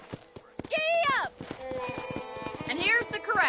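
A horse in the video game Red Dead Redemption on PS5 trots with clear rhythmic hoof clops, gives a loud whinny early on and another toward the end, all close and prominent.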